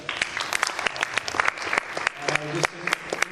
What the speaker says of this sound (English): Round of applause, please, for these guys.